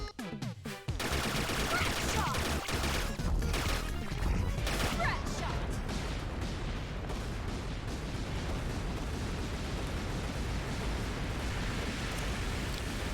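Rapid, continuous gunfire and explosions while shooting the Squid Baron boss in Shantae Half-Genie Hero, a dense, loud barrage of blasts and impacts running steadily throughout.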